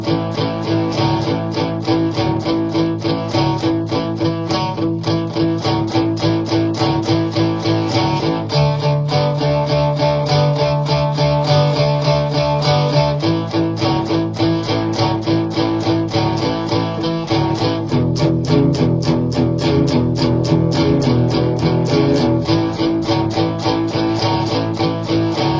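Guitar lick pattern played at slow tempo, a steady stream of evenly spaced plucked notes repeating in a looping phrase, with shifting chords over a sustained bass, clear and close with no talking.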